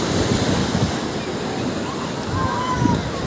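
Surf washes steadily along a beach at night, a continuous broadband roar with wind buffeting the microphone, and faint talk sits underneath.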